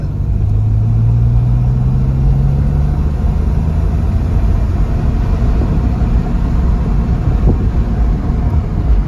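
A manual six-speed 2001 Porsche 911 pulling hard in third gear, heard from inside as a steady loud rumbling engine and road roar with a brief rising tone early on.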